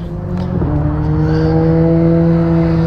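A BMW K1600B Midnight Edition motorcycle engine runs close by, a steady loud hum with a rich, layered tone that rises slightly in pitch early on, then holds even, with no talking.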